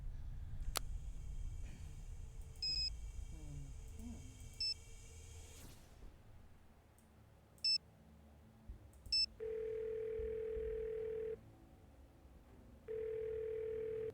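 Telephone dial tone in a Nancy Drew video game, Ghost of Thornton Hall: a steady continuous tone comes in two long stretches, preceded by short beeps and chimes over quiet game ambience.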